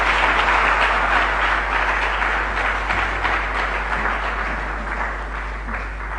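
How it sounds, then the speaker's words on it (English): An audience applauds after a speech at a Ghanaian economy forum, a dense, steady wash of clapping that slowly fades over several seconds. "Please, another round of applause for him."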